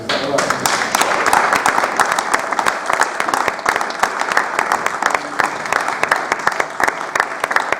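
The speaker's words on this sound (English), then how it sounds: "Can we get a quick round of applause for Carl, guys?" An audience applauds boxer Carl Frampton with loud, dense, continuous clapping filling the whole stretch, with crowd noise blended in.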